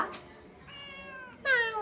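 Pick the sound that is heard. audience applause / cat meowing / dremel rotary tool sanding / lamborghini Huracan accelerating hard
cat meowing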